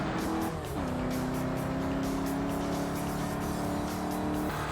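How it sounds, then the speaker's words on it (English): A diesel-sounding rally car engine in the RalliSport Challenge 2 racing game, held at high steady revs with a constant droning note and gear shifts near the start, loud and close without speech. "They sound like diesels for sure."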